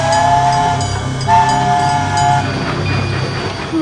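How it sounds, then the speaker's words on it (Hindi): Cartoon train running with a loud rumble and rhythmic clatter, its horn sounding in two short blasts near the start and middle, alone without talking. "क्या ये ट्रेन ढोलकपुर स्टेशन पे रुकेगी?"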